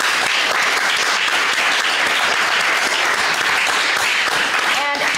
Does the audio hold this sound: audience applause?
yes